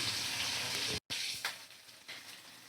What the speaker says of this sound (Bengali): একটু ক্যাপসিকামটা ভাজা হয়ে যাক